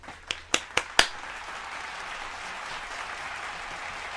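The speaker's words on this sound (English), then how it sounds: "Clap it up for that video" Applause during a commentary stream. Four sharp, loud claps come close together at the start, then a softer steady wash of crowd applause runs on underneath until the end.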